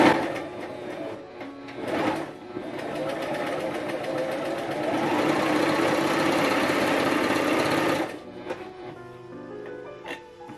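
A Pfaff coverlock 4.0 machine stitches fabric nearby, a steady mechanical whirring hum running for about six seconds after a few short clicks and adjustments, then stopping, with faint handling noises afterward.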